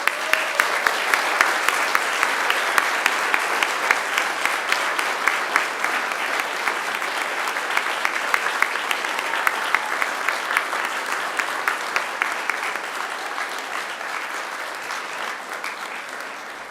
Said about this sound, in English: join me in an almighty round of applause